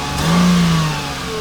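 A 1999 Mercedes engine revving briefly as the gas pedal is pressed, a single rising and falling surge over a steady idle, close and loud.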